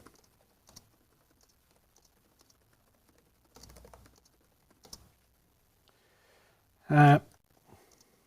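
Someone types a LinkedIn post on a computer keyboard: sparse, faint keystroke clicks in a quiet room, with one short, louder thump near the end.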